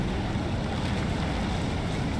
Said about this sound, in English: next to the roaring gusts of wind